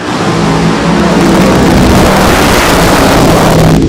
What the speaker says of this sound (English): So the alcohol fuel car brings it up, brings it in.